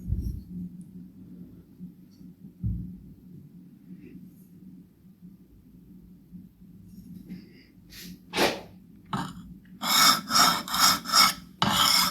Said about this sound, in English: That is why we now grind a very small bevel on the mirror side.